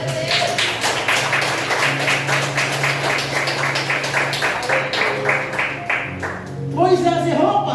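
Church congregation applauding together in a rapid, steady stream of claps that carries on for several seconds, with a held sustained tone underneath and a brief burst of voices near the end.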